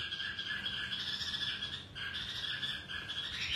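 Several caged songbirds kept by a Vietnamese bird seller call and chirp continuously, shrill overlapping squawks and tweets holding steady throughout, fairly loud and close with no talking.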